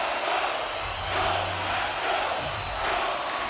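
Crowd at a Calgary Mustangs versus Winnipeg Huskies playoff hockey game cheering with rising and falling shouts, a moderately loud wash of voices in a rink.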